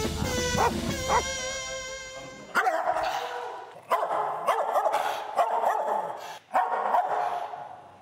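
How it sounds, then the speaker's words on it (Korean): Dog barks loudly and close in repeated sharp bursts, some short yips and a whine early on, with barks clustered in uneven runs. "자, 이럴 때 이렇게 짖을 때는 어떻게 해야 되나요?"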